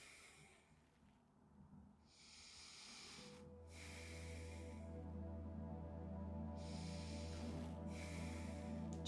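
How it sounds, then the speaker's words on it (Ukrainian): Slow, deep breaths during a yoga stretch, each inhale and exhale a soft airy rush heard close over a faint low hum. "Ми робимо глибокий вдих, видих."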